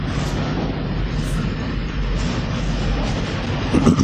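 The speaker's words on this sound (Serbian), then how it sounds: "Voz." A passing train gives a steady, fairly loud low rumble that holds for a few seconds, with no talking over it.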